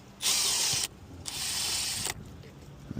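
A small flathead screwdriver scrapes and pries at the plastic armrest trim on a Ram truck door in two harsh, rasping bursts of roughly half a second and one second, close by, followed by quieter clicks.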